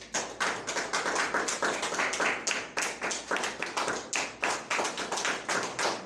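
A church congregation claps together in steady, rapid rhythm, the sharp hand claps dense and continuous for the whole stretch with no talking over them.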